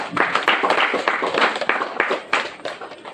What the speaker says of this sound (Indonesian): Kita tepuk tangan untuk Tuhan Yesus.